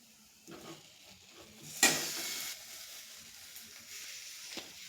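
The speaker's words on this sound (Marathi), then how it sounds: "हा बटाटा घालत आहोत आपण." Boiled, sliced potatoes tipped into a pan of frying masala for a potato curry, a sudden sharp hiss and sizzle that tails off into a gentle crackle with light stirring, close and fairly quiet.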